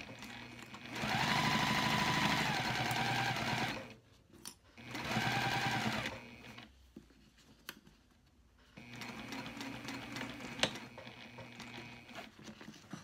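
Sewing machine stitching across the top of a two-tone cork bag at a 1-inch line, in two steady loud bursts of a few seconds each with pauses between, then a softer stretch of handling and quieter machine running.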